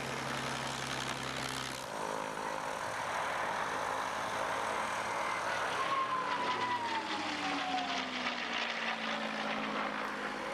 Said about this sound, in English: the throaty roar of the inline 12-cylinder Merlin Rolls-Royce supercharged engines